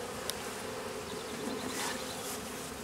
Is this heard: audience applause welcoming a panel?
no